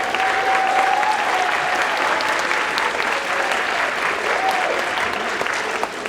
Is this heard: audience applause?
yes